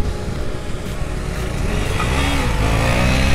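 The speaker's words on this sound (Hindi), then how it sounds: "ये देखो भाई करिश्मा वाला भाई फुल पावर बाइक चला रहा है" A Hero Karizma motorcycle ridden at full power roars steadily with a loud broadband engine drone, building slightly in intensity, with no talk over it.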